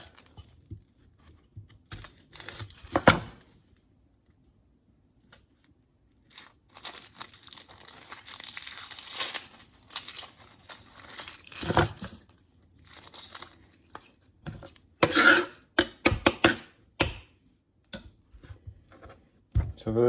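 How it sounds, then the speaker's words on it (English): A knife cutting an onion into chunks on a board, giving scattered crisp crunches and taps, some sharp and close, separated by pauses and mixed with low talk in places. "So I'm just gonna cut up a little bit of onion"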